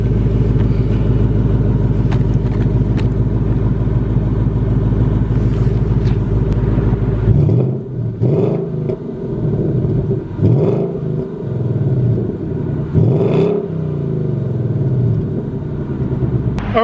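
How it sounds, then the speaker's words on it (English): A completely factory 2019 Ford Mustang GT V8 exhaust holds a loud, steady low rumble, then breaks into several sharp revs that rise and fall in quick bursts, close and dominant with no talking. "This is the exhaust note on a completely factory 2019 Ford Mustang."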